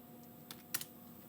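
Keys click faintly a few times in quick succession as a command is typed on the control computer keyboard of a Tormach CNC machine, over a low steady electrical hum.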